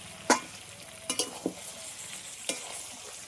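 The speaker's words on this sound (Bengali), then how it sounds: "আমের সাথে চিনিটা ভালো করে মিশিয়ে নেব" A few sharp scraping clinks of a spoon stirring mango and sugar in a pan, spaced irregularly, with a low background hum.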